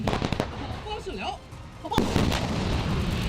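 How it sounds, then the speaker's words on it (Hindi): Artillery guns fire during a military exercise: one sharp, loud boom is followed by rolling rumble, with a voice speaking underneath. "चीन की तरफ मुंह करके रखी गई तोपों से भी ताबड़तोड़ गोलाबारी की गई।"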